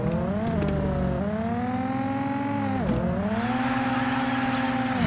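Video-game car engine held at high revs during drifting, a loud, continuous droning whine whose pitch dips and climbs as the throttle shifts, with faint tire squeal and no speech.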